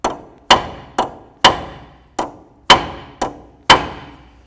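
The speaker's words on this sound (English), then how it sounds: "I'll give a couple loving bonks to peen that down" Eight sharp hammer blows on a flat steel punch, peening the nut of a front lower ball joint on a 2003–08 Toyota Matrix, each strike ringing briefly and decaying, spaced about half a second apart, loud and close.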